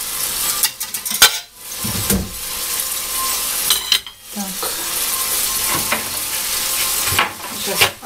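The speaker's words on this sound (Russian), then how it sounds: "С одной стороны поджарили, теперь с другой жарим" Steady sizzling of meat-filled chebureki pastries frying in a pan, with clinks of a utensil against the pan and brief bursts of louder spattering.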